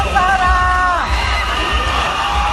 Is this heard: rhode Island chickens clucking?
no